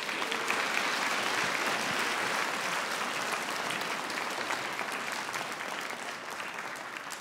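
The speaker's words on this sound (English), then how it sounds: "Give him a round of applause." Audience at a Richmond Symphony Orchestra concert applauds steadily, a dense roomful of clapping hands that holds strong throughout and eases only slightly toward the end, with no voices above it.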